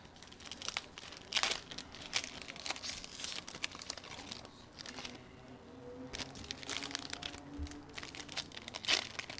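Prizm Retail trading card packs torn open and handled, with steady close crinkling and tearing of foil wrappers and a few sharper rips, fairly quiet and continuous.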